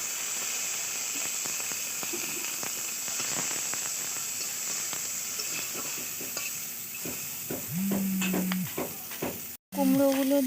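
Onions added to hot oil with panch phoron for a fish curry give a steady, close sizzle and crackle throughout, with stirring clatter and a short tonal sound near the end; no speech.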